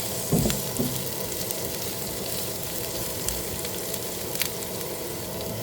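Onion sizzles steadily in olive oil with bamboo shoots in a pan, a soft, even frying hiss with a couple of brief stirring knocks near the start.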